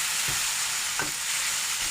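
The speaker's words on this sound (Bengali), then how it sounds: "দুধ দিয়ে একটু নাড়া দিয়ে নেব।" Carrot halwa with milk, cashews and almonds stirred in a frying pan gives a steady, close sizzle, broken by two soft scrapes of the spoon. No one speaks.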